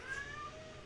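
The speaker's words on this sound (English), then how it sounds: "damn cat" A cat gives a single short, faint meow in the background, thin and drawn out.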